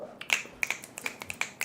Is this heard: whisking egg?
no